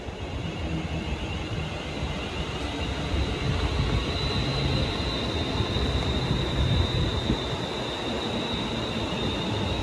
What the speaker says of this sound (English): Arriving in now is the 1500 London Northwestern Railway service get through